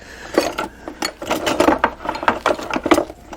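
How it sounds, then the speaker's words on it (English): Kitchen mixer being pulled out and handled while making homemade bread, a series of close plastic and metal clunks, rattles and clicks in uneven bursts, with no talking. "Let's get a mixer at least."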